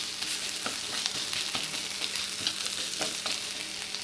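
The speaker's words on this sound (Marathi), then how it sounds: "एक कांदा, परतून घ्यायचं आहे छान।" Onion sautés in hot oil for a corn curry, a dense, even crackle and sizzle close by, with frequent light spatula scrapes and clicks throughout.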